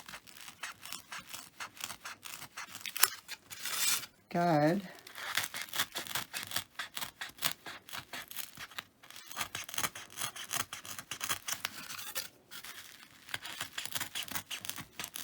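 A craft knife scrapes and rasps through foam board in quick repeated strokes, close and fairly quiet, while a person talks over the cutting.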